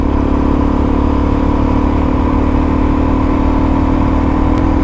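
A Suzuki DR-Z motorcycle cruising at around 35 mph on an evening road, its engine droning steadily and loudly close up under constant wind rush, with no talking.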